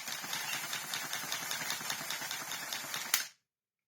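A scrapped Dyson DC39 vacuum's motor and cord rewind unit, salvaged from a skip, whirr steadily with a fast rhythmic pulsing at close range. A sharp click follows, then the sound cuts off abruptly into silence.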